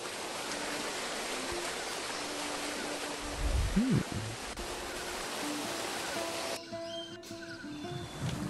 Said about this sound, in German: Das ist ein schöner Wasserfall.